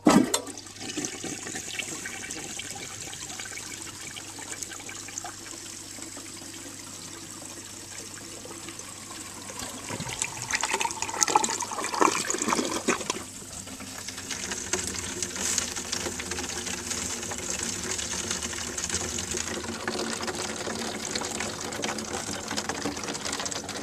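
A 1957 Standard Cadet toilet's bowl refill tube fills a gallon jug with water, a continuous rushing, hissing flow that swells and changes tone partway through.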